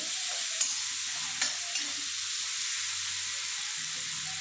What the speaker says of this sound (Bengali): অল্প আমি নেড়ে নেব এইভাবে একটু ভাজা ভাজা হয়ে যাবে